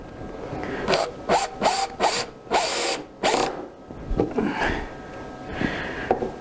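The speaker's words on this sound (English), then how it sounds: "I'll put a screw in now to hold it there securely." A screw is driven to hold a 12mm aluminium plate on a CNC router, giving a series of bursts of whirring drive and ratcheting grind, about six pulses, close and fairly loud, followed by quieter handling noise.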